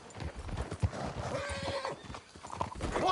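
Horses' hooves clip-clop at a walk in a video game, a quick run of close, even hoof falls with a few faint snorts and whinnies mixed in.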